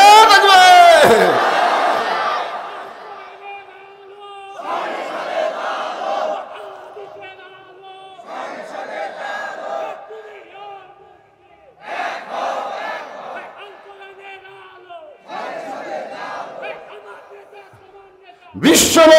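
Large gathering answering a takbir call with chanted responses, several loud collective bursts of voices separated by short quieter gaps, the crowd rising and falling in a repeated call-and-answer rhythm.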